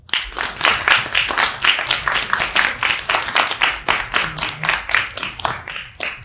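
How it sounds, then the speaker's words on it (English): A crowd at a talk on Indigenous Black queer feminism and community applauds loudly and steadily for several seconds, dense overlapping claps close by and continuous, fading at the very end. "So please help me give a round of applause once I say the names."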